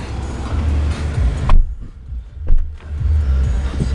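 Steady road rumble and tire noise inside a 2012 Mazda6i four-door sedan on a test drive, with a couple of brief louder swells as it moves along.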